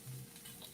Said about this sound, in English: We can watch those sizzle.